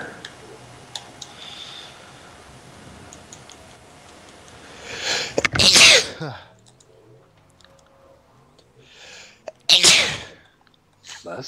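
Two loud, abrupt sneezes about four seconds apart, close to the microphone, following a stretch of quiet chatter and clicking from a GTA V gaming session.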